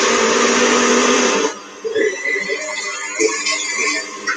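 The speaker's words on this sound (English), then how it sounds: "I'm just going to pop this on and start whisking it." An electric mixer whisking eggs and oil in a kitchen, a loud steady whirring drone for about a second and a half before it cuts off, followed by quieter clatter and voices.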